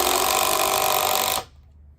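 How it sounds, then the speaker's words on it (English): A Makita drill driver spins steadily at high speed driving a screw, a loud close continuous whir that cuts off abruptly near the end, leaving quiet. "this is quite interesting watching these screws drive in"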